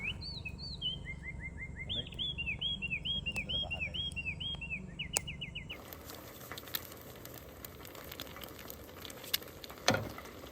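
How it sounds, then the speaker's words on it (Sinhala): Wild birds call in a forest around a campsite at dawn in Sri Lanka: clear, repeated chirping and whistled phrases close by for several seconds, then quieter rustling background with a few faint sharp clicks. "අපි දෙන්නම ඇත්තටම ආසම දෙයක් තමයි උදේට මේ නැගිටිනකොට කුරුල්ලෝ කෑ ගහන සද්දෙට."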